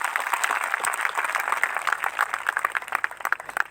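Applause for Jesus from a Christian congregation at a gathering, a dense burst of many hands clapping close by that keeps up steadily for a few seconds.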